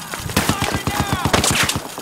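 A loud, close burst of rapid machine gun fire in the Battlefield 4 campaign, about a dozen sharp shots in quick rhythm over two seconds, with faint voices mixed in.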